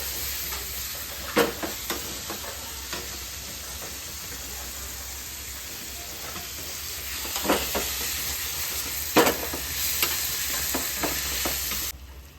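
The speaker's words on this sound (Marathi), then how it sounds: "आता आपण टमॅटो टाकत आहोत त्याच्यामध्ये. हे पण आपण शिजून घेऊया." Tomatoes and onion cooking in a pan, a continuous hissing sizzle with steam, punctuated by occasional scraping stirs and clacks of a utensil, close and steady throughout.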